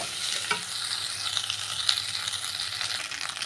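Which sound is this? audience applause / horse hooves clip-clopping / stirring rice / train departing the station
stirring rice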